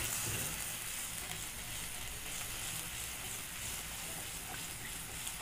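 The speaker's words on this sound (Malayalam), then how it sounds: "തിളപ്പിച്ച വെള്ളമായിരിക്കണം ഒഴിച്ച് കൊടുക്കണം." Boiled water poured into sizzling masala for a Kerala-style egg curry, giving a faint, steady hiss and bubbling sizzle that holds evenly throughout.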